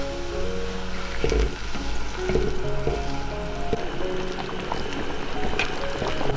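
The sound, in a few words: goose placed into boiling brown sugar sauce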